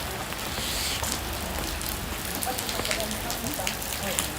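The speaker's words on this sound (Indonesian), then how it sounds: "Hujan nih, hujan." Rain falls steadily at an outdoor funeral gathering, a continuous dense patter with faint voices murmuring underneath.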